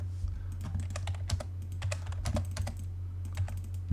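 Close, quiet, rapid keystrokes on a computer keyboard as a number is entered while drawing in AutoCAD, with a few brief bursts of clicks and no talking.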